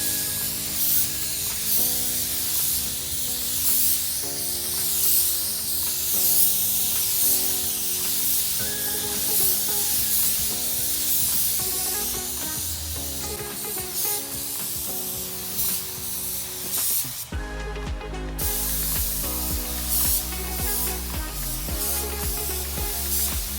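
A spray gun coats the roof of a classic van with paint, giving a steady close hiss that runs almost the whole way under background music and breaks off briefly near the end.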